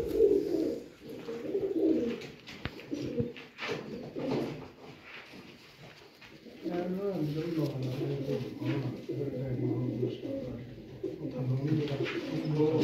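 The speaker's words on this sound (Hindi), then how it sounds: "ए प्लस कैटेगरी के कबूतर" Rare A-plus category show pigeons coo in low, repeated rolling phrases, close and fairly soft, with someone talking over and between the calls.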